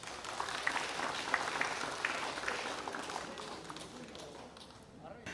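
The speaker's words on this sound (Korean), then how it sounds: "강사님께 큰 박수 한번 부탁드리겠습니다." An audience at a nature-protection seminar applauds a lecturer, a Namhae County cultural tourism guide; faint, somewhat distant clapping fades gradually toward the end.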